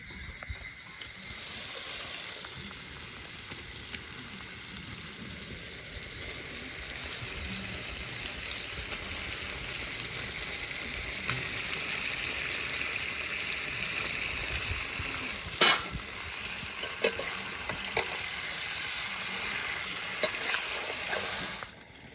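Chicken pieces frying in spiced oil, a steady close sizzle and hiss running throughout with occasional stirring clinks, one sharp scrape near the end, no voices.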